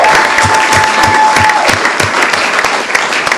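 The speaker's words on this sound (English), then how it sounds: "So let's give Pat a round of applause." A room full of people at a county commissioners meeting gives a loud round of applause for Pat, dense clapping with a faint steady tone underneath.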